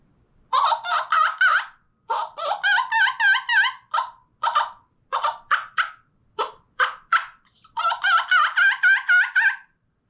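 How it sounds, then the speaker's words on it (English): Homemade wing bone turkey call made from chicken wing bones, blown in quick bursts of high-pitched, squeaky yelps, several clusters of rapid notes separated by short pauses, loud and close with no talking. "making wing bone calls from chicken wings"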